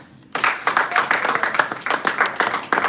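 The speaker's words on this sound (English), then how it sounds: "I would say we should give a round of applause to every speaker." An audience at a Toastmasters club meeting in Lagos breaks into a round of applause for the speakers, steady, fairly close clapping that starts abruptly and keeps going without talk.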